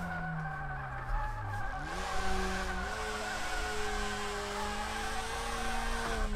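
A Subaru BRZ slides sideways while drifting in the racing game DRIFT21 with a slipping clutch. Tires squeal in steady, rising and falling tones over an engine drone for several seconds, with no talk.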